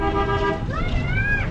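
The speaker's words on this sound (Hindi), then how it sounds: "हॉर्न दे दिया है बस ने" A bus horn at a village near the border outside Lahore sounds twice, a loud, close, harmonic toot followed by a second higher, wavering blast, over low background rumble.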